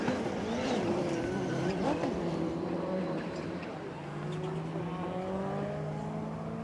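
Rallycross race cars, including a Subaru, run a gravel Joker lap in the 2016 British Rallycross Championship, several engines revving and shifting pitch together at moderate distance, their tones rising and falling over a continuous rumble.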